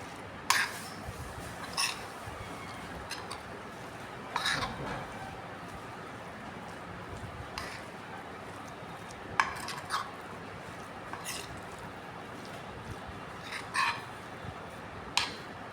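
Raw mustard oil and sugar being mixed in a bowl for mango kasundi: a spoon clinks and scrapes against the bowl in sparse, irregular taps over a quiet, hissy room background.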